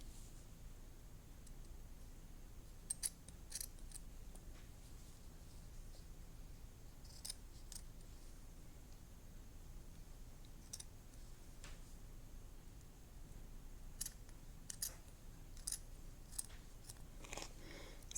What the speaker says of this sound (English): find scissors that do a good job cutting with felt